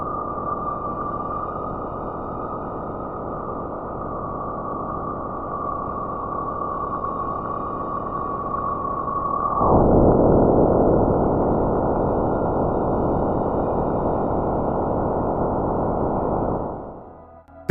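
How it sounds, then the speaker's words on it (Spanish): A spacecraft recording of electrical emissions from Jupiter's magnetic field. A steady, dense hiss carries a thin sustained tone, then swells abruptly into a louder, fuller roar that holds for several seconds before cutting off. "Este sonido fue grabado por una nave espacial cerca del planeta más grande del sistema solar."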